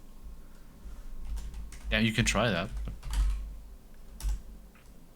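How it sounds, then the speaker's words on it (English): Rapid clicking of a computer keyboard is heard throughout the quiet room, while people talk over the typing. "Just typing"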